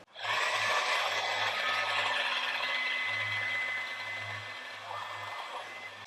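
Heat gun warming a matte black vinyl stripe on a 2023 Ford Bronco Badlands: a steady, close airy blower hiss with a low motor hum running throughout, easing slightly toward the end.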